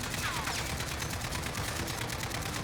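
M4A1 rifle fire in a video game, built for maximum recoil: a sustained, rapid automatic burst of evenly spaced shots, loud and unbroken for the whole stretch.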